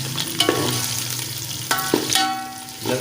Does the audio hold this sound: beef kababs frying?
yes